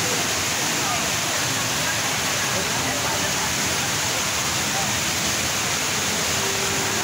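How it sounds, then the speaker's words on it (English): The 40-metre indoor waterfall at Changi Airport's Jewel in Singapore pours down into the basement with a constant, loud roaring rush of falling water, broad and unbroken throughout. "The largest indoor waterfall that flows from 40 meters above here down to the basement."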